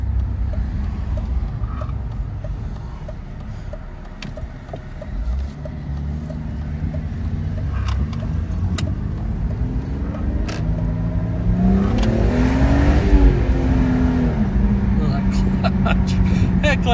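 A manual BMW E46 330ci pulls out onto a main road, its engine humming steadily and rising in pitch as it accelerates near the end, with someone talking over it.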